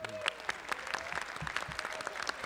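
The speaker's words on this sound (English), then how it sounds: "So everybody, a round of applause." Audience applause at a convention panel, a steady wash of clapping hands filling the room, fairly loud and continuous with a few louder individual claps standing out, and no talk over it.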